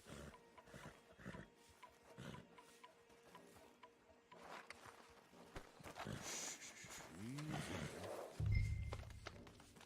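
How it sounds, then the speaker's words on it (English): Horses walk at an easy pace in Red Dead Redemption 2, with soft irregular hoof clops mixed with game ambience, snorts and creaks, fairly quiet and steady, and a louder thud near the end. "Javier, you're gonna lead the stallions."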